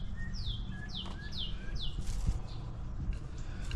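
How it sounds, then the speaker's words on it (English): A garden bird repeats a run of clear, descending whistled notes, each about half a second apart, fairly faint over a low background rumble. "Wish I knew what kind of bird that was."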